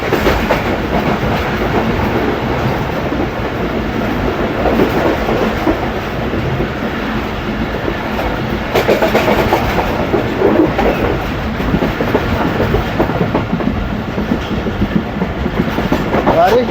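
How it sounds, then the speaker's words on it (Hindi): A passenger train in Pakistan runs through rain toward a railway station, a loud continuous rumble of the wagons with rhythmic clickety-clack of the wheels, heard close from on board. "खंडरीला रेलवे स्टेशन क्रॉस होने वाला है।"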